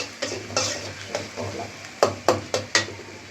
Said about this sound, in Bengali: এখন আমরা পাবদা মাছ ভুনা করতেছি, ভুনা না বেগুন দিয়ে আর কি মাছ রান্না